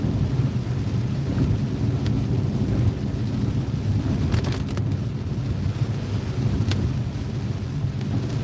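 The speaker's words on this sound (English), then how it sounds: "It's still raining, as you can see" Steady rain from a thunderstorm in Pennsylvania, a constant low wash of falling water with wind rumble and a few faint crackles, no voices.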